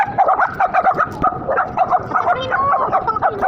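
A dog yips and barks in quick, repeated bursts close by, with whimpering notes between, over a noisy background.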